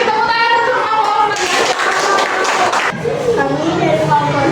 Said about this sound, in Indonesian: Oke, kasih tepuk tangan untuk kelompok.